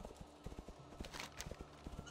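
A war horse in World of Warcraft trots along with steady, quick clip-clop hoofbeats and a brief whinny, all quiet and continuous against a game backdrop.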